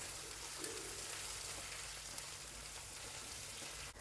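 Curry leaves frying in hot oil, giving a steady, dense sizzle and crackle close up that runs unbroken throughout with no voices.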